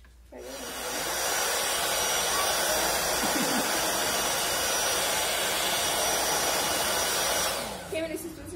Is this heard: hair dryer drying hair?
yes